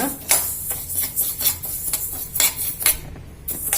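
Niger seeds dry-roasting in a pan as a spoon or spatula stirs them, giving repeated scraping and rattling strokes at a steady rhythm, close and fairly loud, with no voices.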